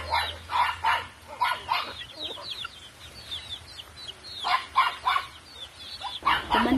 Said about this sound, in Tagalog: Napakasarap pakinggan ng mga manok habang nagpapakain ka guys!